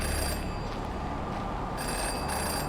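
A phone in a phone booth rings in the video game Jenny LeClue, with a few short bursts over a steady background of ambient game music and noise.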